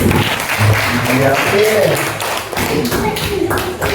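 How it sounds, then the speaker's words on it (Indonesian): A school class claps together in a classroom, a dense burst of hand claps close by, with voices calling out over and around it. "Tepuk tangan dulu"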